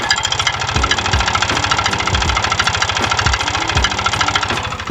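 A Yamaha NMAX 155 V1 scooter engine runs close by with a loud, rapid, regular metallic knocking tick from a worn connecting rod, hammering steadily over the idle drone.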